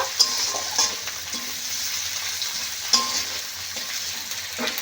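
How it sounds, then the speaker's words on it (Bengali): Chopped onions and green chillies frying in a pan, a steady close sizzle with a few sharp clinks of a spoon stirring against the metal. "পেঁয়াজগুলো একটু বেশ ভালো করে লাল লাল করে ভেজে নেব"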